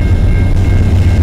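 A freight train rumbles past on the Dundas Subdivision in London, Ontario, with a loud, close low-frequency engine drone and faint rail hum.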